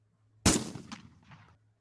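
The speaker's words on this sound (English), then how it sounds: "Oh, that was a gunshot. I found a gunshot." A single gunshot sound effect goes off during a game show, with a sharp, loud crack and a brief decaying tail of echo.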